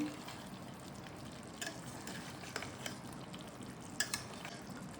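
Stuffed aloo dum is stirred with ghee and mustard oil in a pan. It makes a soft, steady sizzle with a few faint scraping clicks of the spoon, quiet and close.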